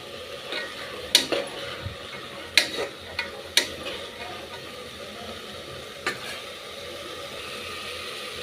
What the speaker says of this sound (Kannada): ಸ್ವಲ್ಪ ಲೈಟಾಗಿ ಆಯಿಲಲ್ಲಿ ಫ್ರೈ ಆದರೆ ಸಾಕು.